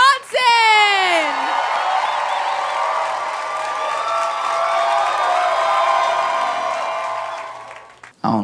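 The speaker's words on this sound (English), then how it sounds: "Y'all start clapping right now. Give it up for Josh Johnson." A comedy club audience claps and cheers as headliner comedian Josh Johnson is brought on: loud, sustained applause with high whoops and whistles at the start, then fading out near the end.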